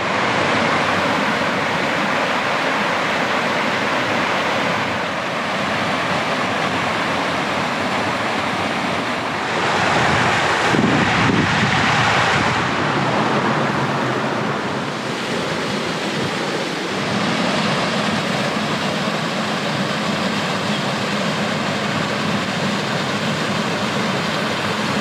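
Water of a stream pours over rocks below Genoa Falls in a constant, loud rushing wash that stays steady and close throughout, with no talk.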